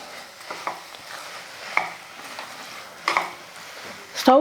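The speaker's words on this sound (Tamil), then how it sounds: "இந்த மசாலா பாவக்காய் எல்லாம் சேர்த்து ஒரு ரெண்டு மூணு நிமிஷத்துக்கு வந்து நல்லா வதங்கணும்" Bitter gourd sautéing with masala and oil in a pan for a Tamil home lunch curry, giving a soft, low sizzle with intermittent stirring scrapes and a few utensil clinks, close and fairly quiet with no talk.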